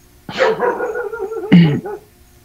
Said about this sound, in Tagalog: Ikaw po ba yung tinatahol ng aso dyan sa kapitbahay?